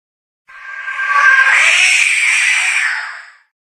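A single drawn-out cat meow sounds alone and fairly loud for about three seconds, played by a jump scare trigger in a Roblox horror game.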